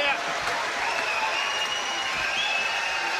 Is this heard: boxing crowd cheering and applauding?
yes